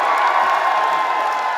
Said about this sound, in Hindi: ताली बजाइए हाथ उठा के एक बार।